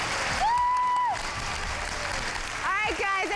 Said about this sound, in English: Let's give Cassie a big round of applause